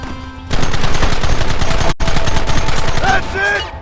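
Loud, close gunfire in the Red Dead Redemption video game, rapid overlapping shots in a dense barrage that cuts out for an instant and then continues, with shouting voices mixed in toward the end.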